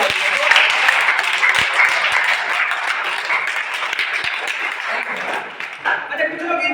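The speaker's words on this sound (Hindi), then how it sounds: "इंसान वाला तालियां जोरदार बजाइए" A large motivational seminar audience at Panawari College claps loudly in a dense, rapid burst of applause that fades near the end, with a voice briefly speaking over it as the clapping trails off.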